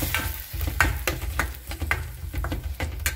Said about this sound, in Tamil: இந்த மாதிரி நல்லா மிக்ஸ் பண்ணி வச்சுருங்க.